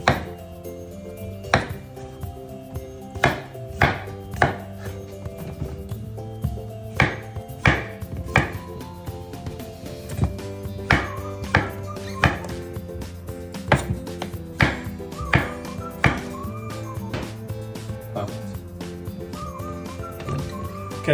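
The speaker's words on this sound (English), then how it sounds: "So slice them into about 4. That way they're going to cook a lot quicker." Knife slicing potatoes on a chopping board, a steady series of sharp close knocks at irregular intervals over a faint background hum, no talking.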